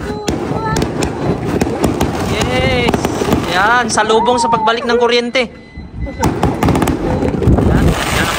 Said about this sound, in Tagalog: fireworks, mga sample ng fireworks ng mga kabayan para sa bagong taon.